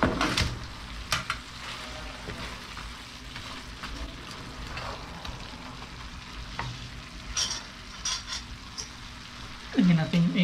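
Carp fish frying in a home pan, a faint steady sizzle with occasional clinks of utensils against the pan and a louder scrape near the end.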